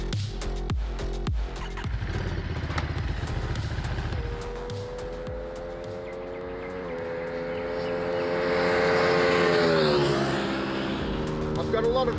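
A Ducati Monster motorcycle engine revs and rides around a superbike race track at Sydney, loud and close, its pitch climbing and falling through gear changes, with voices talking over it.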